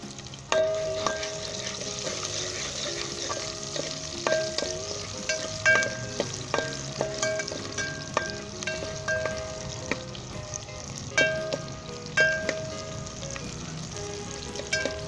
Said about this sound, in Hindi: 1 मिनट के लिए इसे फ्राई करते हैं।